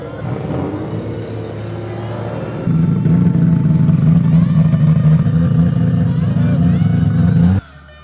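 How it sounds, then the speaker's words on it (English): Volvo drift car doing donuts at a drift event, a loud sustained engine roar that steps up sharply partway through into a heavier revving drone, then cuts off near the end. "We're allowed to do some donuts."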